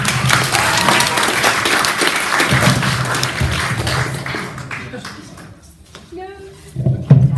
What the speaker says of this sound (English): Let's get another round of applause for all of them.